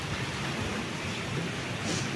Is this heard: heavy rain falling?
yes